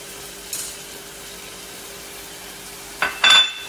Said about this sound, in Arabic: نحمس الحين ونغطي جدرنا عشان يستوي الربيان